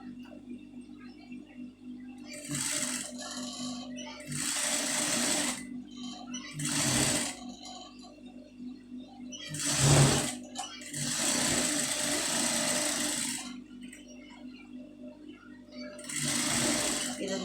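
Sewing machine stitching a saree border onto a blouse sleeve, running in several loud close bursts of whirring with pauses between, over a low background hum.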